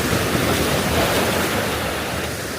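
Sea waves off Villingili island in the Maldives, a steady broadband wash of surf with wind, loud and continuous throughout with no voices.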